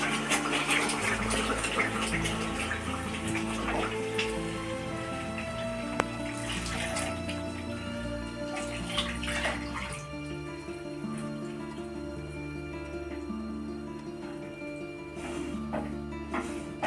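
About 500 ml of milk streams into a cooking pan for paneer malai kofta, a continuous liquid pour running underneath steady background music.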